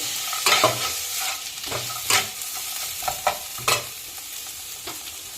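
Grated coconut and soaked raw chickpeas fry in a hot pan, a close steady sizzle punctuated by repeated scraping strokes of a spatula stirring every second or so.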